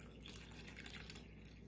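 Water poured from a cup into flour for focaccia dough, a soft continuous trickling and splashing pour heard close up and fairly quiet, steady throughout with no talking.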